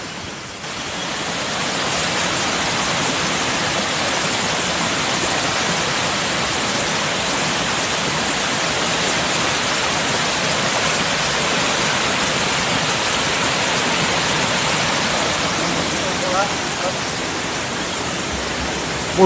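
A waterfall, the cascade de la Pissoire, roars in a steady, dense broadband rush that holds evenly from start to end, loud and close with no clear voices over it.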